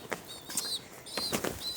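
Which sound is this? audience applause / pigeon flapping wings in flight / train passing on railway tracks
pigeon flapping wings in flight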